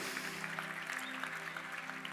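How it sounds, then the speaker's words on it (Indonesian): An audience at a youth worship conference gives steady, faint applause, a soft continuous patter of many hands heard from a distance with a low hum beneath it. "berikan tepuk tangan yang terbaik buat Tuhan kita sekali lagi"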